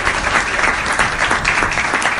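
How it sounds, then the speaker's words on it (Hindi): Steady audience applause at a live speech or poetry recitation, dense and loud throughout with no break, many hands clapping at once. "आपकी तालियां बता रही हैं"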